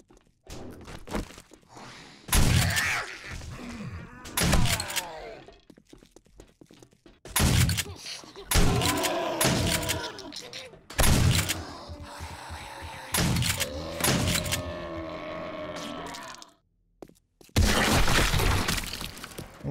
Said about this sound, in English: I don't think that explosion would have made it up here